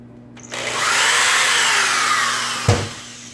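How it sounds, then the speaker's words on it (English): A power drill bores a hole through a kitchen cabinet door for a knob, guided by a homemade template; a steady high whine runs for about two seconds, then a short knock as the bit breaks through. "and drill on through."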